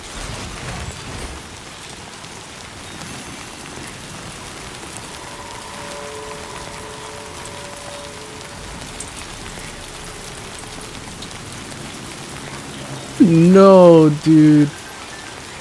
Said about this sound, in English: Dude, this rain is killing everything.